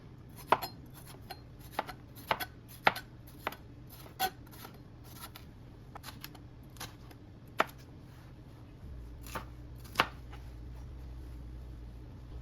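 A knife chops food on a board while cooking a bread soup, with sharp isolated taps spaced irregularly, then a steadier run of cuts under a low hum, close and fairly quiet.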